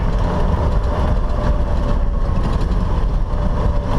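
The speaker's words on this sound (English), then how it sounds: "I don't have a loud Jake brake. It's a very quiet compression brake." A truck's quiet compression engine brake holds a steady, low, even rumble from inside the cab for the whole stretch, with no sharp bark or stutter.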